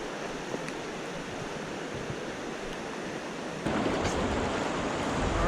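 Class 1-2 river rapids rush past a canoe on a rainy overnight trip, a constant broad wash of churning water close by that swells louder partway through, with no voices.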